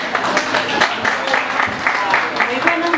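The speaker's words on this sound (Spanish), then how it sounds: "Y un aplauso para Saltita" Audience applause at an awards-style gathering for the Flash team, a steady clatter of clapping from the crowd, with talk mixed in over it.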